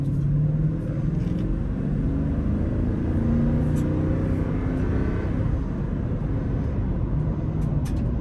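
A 2021 Toyota Sequoia TRD Pro accelerates along a gravel trail, a steady close engine and road rumble with tire noise and faint scattered crunches throughout.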